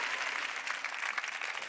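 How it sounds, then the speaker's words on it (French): Audience applause at a dance audition show, a steady wash of clapping from a crowd, moderately distant and even throughout the short stretch. "Profitez des applaudissements."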